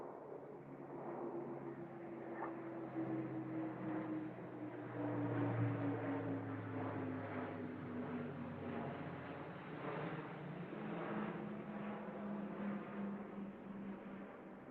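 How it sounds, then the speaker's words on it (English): A low-flying plane passes overhead near Acton Bridge, a steady broad engine roar with a slowly falling drone that swells in the middle and holds for the whole stretch, with no talking. "a plane's just gone over. That was exceptionally low."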